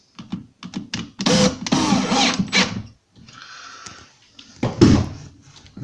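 A hinge is screwed onto a kitchen cabinet door, with close knocks, scraping and rattling handling noises in uneven bursts separated by brief pauses.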